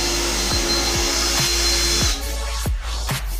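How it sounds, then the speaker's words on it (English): A drill bores into the lock of a vending machine, a steady high motor whine under repeated short grinding bursts as the metal bit works in a circular motion, close and loud. "you're moving the drill bit in a circular motion"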